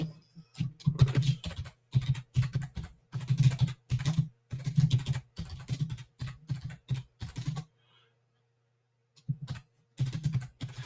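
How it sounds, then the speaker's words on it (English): Rapid bursts of typing on a computer keyboard, close and fairly loud, coming in short clattering runs separated by brief pauses, with a longer silent gap near the end before a few final keystrokes. "I'm just going to type that in."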